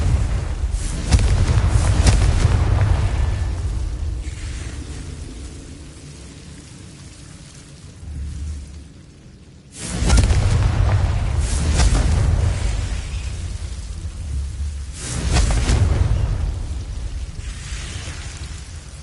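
Confringo spell explosions in the Hogwarts Legacy video game land as deep booming blasts followed by long rumbling, crackling decays, with a few heavy hits spread across the clip and no voices.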